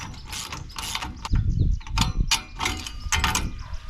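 A boat winch clicks and ratchets as its handle is cranked on a jon boat, giving bursts of sharp metallic clicking mixed with heavier clunks and grinding, close and loud, with no talking.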